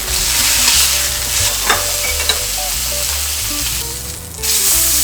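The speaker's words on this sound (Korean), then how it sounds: "팬에 기름을 살짝만 두르시고요 준비해둔 고기를 올려주세요" A steak seasoned with salt, pepper and olive oil fries in a lightly oiled pan, giving a loud, continuous close sizzle throughout.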